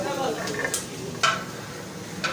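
Rice being stirred in a large pot, several scraping and clinking strokes of a spoon against metal over a low background hiss, close and fairly quiet.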